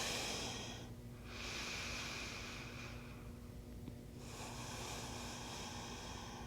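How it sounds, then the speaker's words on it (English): A seated chair-yoga session with slow, deep breaths drawn in and pushed out through the nose. Two long, soft airy cycles are heard close to the microphone, with no talking. "Taking some deep breaths here, in through the nose, out through the nose."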